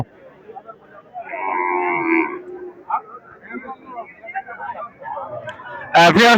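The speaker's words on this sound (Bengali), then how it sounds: "আমরা কিন্তু গাভী গরুর বাজারে আমরা চলে আসছি" A dairy cow lets out a long, loud moo amid the murmur of a crowd at the Alamdanga cattle market in Chuadanga, with scattered voices and other animal calls around.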